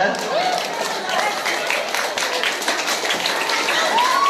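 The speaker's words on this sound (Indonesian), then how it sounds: "Tepuk tangan dulu dong untuk ISBA 2." Schoolchildren at an elementary school event applaud in a dense, noisy round, with excited young voices and shouting blended into the clapping throughout.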